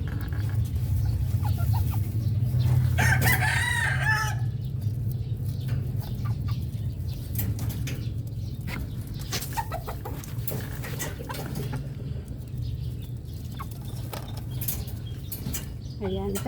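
Hens cluck and murmur softly around a farm coop as their eggs are gathered, with a brief louder squawk early on over a steady low hum.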